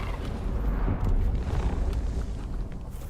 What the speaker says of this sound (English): No, that's spice. Spice explosion.